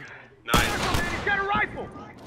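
Rifle fire in the video game The Last of Us, set during a multiplayer supply raid, erupts as a sudden loud burst of gunshots with sharp echoing cracks, mixed with an excited human voice and game sounds.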